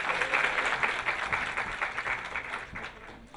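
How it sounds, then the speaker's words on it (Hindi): A crowd claps steadily throughout, a dense wash of applause that fades slightly toward the end. "एक बार तालियों से स्वागत करें।"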